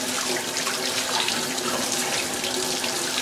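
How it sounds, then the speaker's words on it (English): A kitchen tap pours steadily into a sink as it is rinsed during cleaning, a continuous close, loud rush of running water with no voices. "Okay, and then now I'm going to rinse it."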